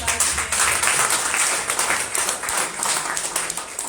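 An audience applauds the manager at an evening event, a dense steady wash of many hands clapping at close range that stays loud throughout.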